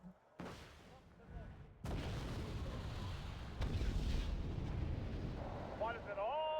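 Heavy mortar and artillery blasts from a tank combat video game rumble in loud bursts, a big impact near two seconds followed by sustained booming roar and another hit, with a rising mechanical whine near the end.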